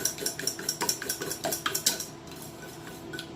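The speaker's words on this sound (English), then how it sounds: "I'm gonna whisk this all together" A whisk beats cookie ingredients in a bowl in quick rhythmic strokes, with bright metallic clinks against the sides, then drops to a softer, quieter stirring near the end.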